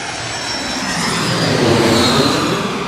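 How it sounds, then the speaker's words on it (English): An Embraer jet flies over a street in Queens, a loud, steady engine roar with a whining high edge that swells toward the middle and holds near and unbroken. "Another Embraer."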